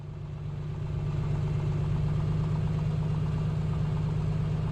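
Piper PA-24-250 Comanche piston engine idling while taxiing in Microsoft Flight Simulator 2024, a steady low droning hum with a constant pulsing throb, loud and unchanging throughout, no talking.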